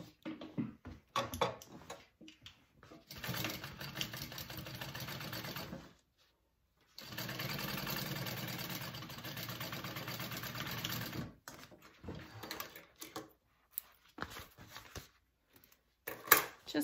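Sewing machine stitching a handbag's side and bottom pieces together at a half-inch seam, running in two steady bursts with short pauses and quieter handling between.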